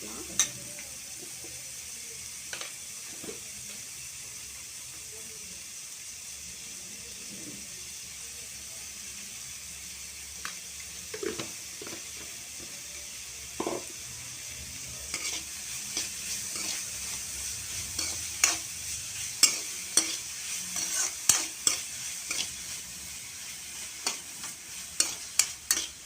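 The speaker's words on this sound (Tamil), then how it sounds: "கொஞ்சம் ப்ரௌனிஷ் கலரில் வரணும், அந்த அளவுக்கு நம்ம வதக்கிக்கலாம்" Ingredients for a leftover idli dish are sautéed in a pan with salt until browning, giving a steady soft sizzle under irregular scraping and stirring clicks that grow busier and louder toward the end.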